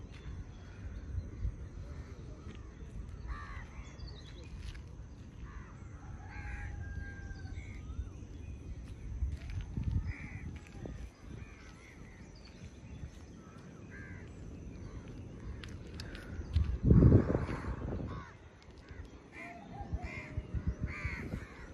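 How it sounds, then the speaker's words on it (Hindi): Crows caw repeatedly at a distance over a steady morning ambience in Goa, with a louder burst near the end; a rooster's crow is faint if present, with hills and fog nearby. "देख रहे हो यहाँ तक डोडो की आवाज़ आ रही है"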